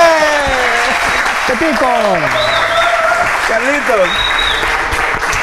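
Studio audience applause for a guest on a live Spanish-language talk show, loud and continuous, while someone speaks over it and music tones sweep through.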